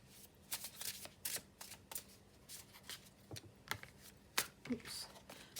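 Soft, close riffling and snapping of tarot cards being shuffled in quick bursts, with small taps between, quiet and intimate.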